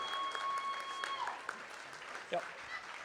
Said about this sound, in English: Let's give a round of applause to Emily who helps organize this too.